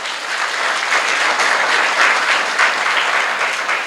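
Loud, sustained clapping from a crowd at a church consecration, an even wash of hands that swells slightly midway and continues to the end.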